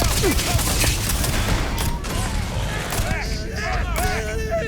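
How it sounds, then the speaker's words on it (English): Dense overlapping gunfire from a firefight in the video game Starfield, continuous crackling shots near and loud at first, later mixed with sci-fi effects and voices talking over it. "I am opening fire."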